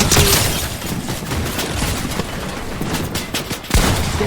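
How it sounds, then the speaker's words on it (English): Dense, continuous barrage of rapid explosive blasts and gunfire in a chaotic Fortnite endgame, with rocket launchers firing from all sides; a sharp louder blast lands near the end, with no voices. "they are being barraged right now from all sides. With all these rocket launchers."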